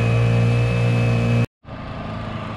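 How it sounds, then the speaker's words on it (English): A Honda 5 outboard engine on a Nucanoe Pursuit fitted with a stainless steel two-blade prop runs loud and close with a steady hum. A brief cut near the middle drops it to silence, and then it drones on again. "engine sounds identical as far as pushing the throttle"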